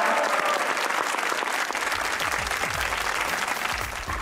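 A studio audience at a Pakistani TV comedy talk show breaks into sustained, dense applause, many hands clapping loudly and steadily throughout.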